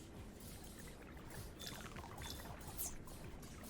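Water pumped and flowing in Sandustry, a faint continuous pouring and gurgling wash with a few soft splashes, steady throughout and without talk.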